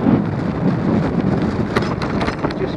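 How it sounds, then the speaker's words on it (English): Heavy wind buffeting the microphone while riding an electric scooter in Nottingham, a steady rumbling roar with gusty surges throughout and no voices. "Quite sure why it's so windy."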